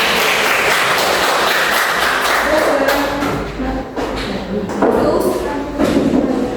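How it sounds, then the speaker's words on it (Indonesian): A class claps for a student group in a lively patter of close applause that dips briefly in the middle and then picks up again, with some scattered voices underneath. "beri tepuk tangan untuk kelompok satu"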